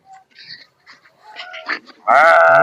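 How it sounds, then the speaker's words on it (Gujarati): Sheep and goats grazing along a roadside in the Gir area; one animal lets out a loud, close bleat near the end after quieter rustling and faint sounds. "તો દોસ્તો જોઈ શકો છો ઘેટા બકરા અહીં સરે છે."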